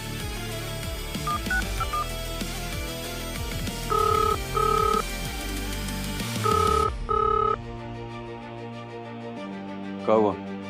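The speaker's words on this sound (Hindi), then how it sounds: "सिकंदर, फोन मिला।" Telephone keypad tones being dialed in a steady sequence of beeps over background music, followed by a brief ringing tone near the end; no speech heard.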